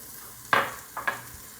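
Peas are stirred into sizzling Guyanese dhal in an Instant Pot, a brief scrape followed by two softer stirring swishes over a faint hiss, close by and quiet.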